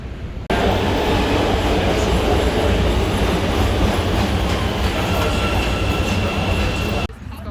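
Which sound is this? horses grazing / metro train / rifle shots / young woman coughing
metro train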